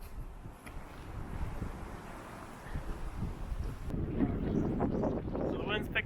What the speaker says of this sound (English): So the wind's picked back up.